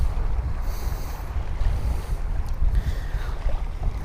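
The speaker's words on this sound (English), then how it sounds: "That wind really picked up." Wind gusts roar across Lake Pleasant beside a fishing boat, giving a steady, fairly loud rumble on the microphone with no talking.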